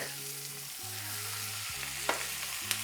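Veal shanks for ossobuco frying in butter with strips of lemon peel, a soft continuous sizzle over a low steady hum, with two brief bright crackles near the end.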